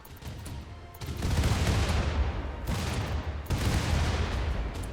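RimWorld battle noise, with rocket artillery and gunfire landing on trenches: dense, rumbling bursts of booming fire that swell in two or three heavy waves, loud and continuous.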